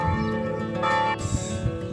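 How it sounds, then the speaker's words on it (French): Village church bells ring at noon, rich metallic tones sounding loud and close with overlapping strikes and a lingering hum. "vous l'entendez, les cloches sonnent"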